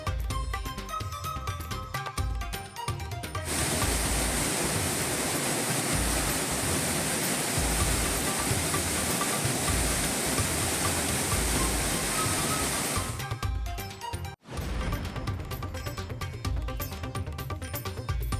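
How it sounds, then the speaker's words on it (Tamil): Flash-flood water roars down Panchalinga waterfall in the Thirumoorthy hills as a loud, steady, broadband rush, with a sharper surging stretch in the middle. "திருமூர்த்திமலை பஞ்சலிங்க அருவியில் காட்டாற்று வெள்ளம்."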